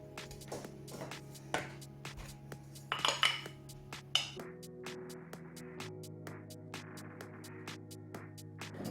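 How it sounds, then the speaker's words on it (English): Caster sugar and butter are creamed in a mixing bowl, with a utensil scraping and clinking against the bowl in irregular close knocks and one busier rattling stretch, and no speech. "In my bowl I'm going to cream together caster sugar and butter."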